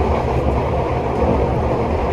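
Steady, loud rumble inside the morning Fajar Utama economy passenger train running from Jogja to Jakarta, a dense continuous roar with no breaks and no talk.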